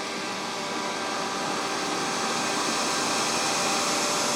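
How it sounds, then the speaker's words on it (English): OKP K5 Pro robot vacuum running steadily on carpet, a loud, continuous broadband whir with a faint tonal whine, close and unbroken, with no voices. "This is going to be how loud the vacuum is."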